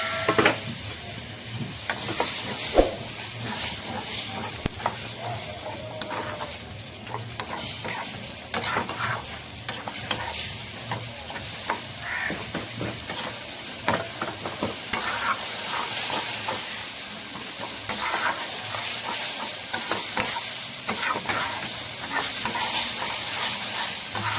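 Goat meat masala sizzles and hisses steadily in a pan after a splash of spiced water, with continuous stirring scrapes and frying crackle, loud and close throughout.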